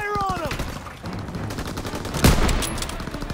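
Loud bursts of rapid gunfire from the Call of Duty: WWII video game on PC, with a sharp heavy blast partway through and rattling shots continuing around it.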